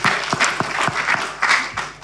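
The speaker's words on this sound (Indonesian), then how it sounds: "Berikan tepuk tangan dong." A church congregation claps together after a sermon, a loud, dense burst of applause with rhythmic hand claps throughout and no voices over it.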